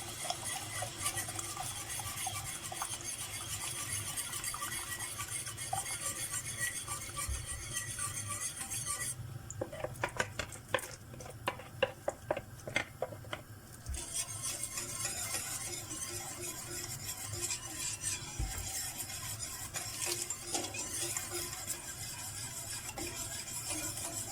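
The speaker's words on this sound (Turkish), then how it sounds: "Şimdi yavaş yavaş ilave ederek ve sürekli çırparak kıvamlandırmaya çalışacağım." Boiling grape must for pepeçura, whisked continuously to thicken it, gives a steady bubbling, sizzling wash with rapid rhythmic clinks and scrapes of the whisk against the pot, loudest in a burst midway.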